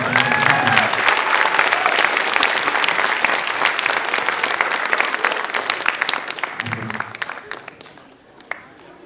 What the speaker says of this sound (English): give one last round of applause for our guests